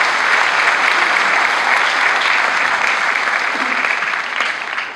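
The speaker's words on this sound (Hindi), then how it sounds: "एक बार फिर गगन में दोनों तालियां बजा बजा कर बताइए कि आप तैयार हैं" Dense, sustained applause from a large audience at a national poetry recital in an auditorium, steady and loud throughout with no voices above it.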